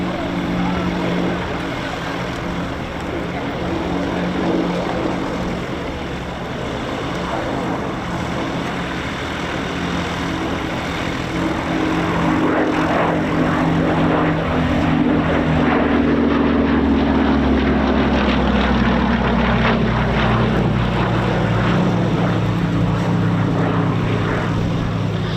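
A rare airworthy Westland Lysander propeller aircraft runs in from the left at an airshow, its engine a steady drone that swells louder and deepens toward the end, with a voice talking over it.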